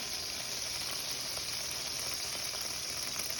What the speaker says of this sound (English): see the wine start to bubble and sizzle.